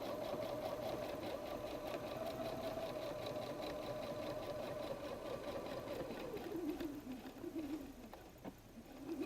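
A sewing machine stitching a messenger bag pocket flap at a 2.5 stitch length, a steady fast mechanical whir that runs continuously and slows slightly near the end, fairly faint.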